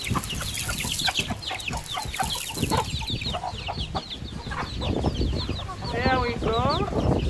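Chickens in a small backyard pen cluck and squawk close by in a busy, overlapping chatter, with a few longer calls rising toward the end, as a person speaks over the flock.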